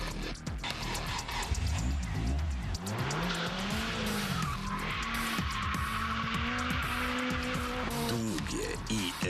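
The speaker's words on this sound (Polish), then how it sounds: "Efektowne poślizgi." A drifting car slides through a long skid with loud, sustained tire squeal and a revving engine, the squeal wavering in pitch across the whole stretch, with no talk over it.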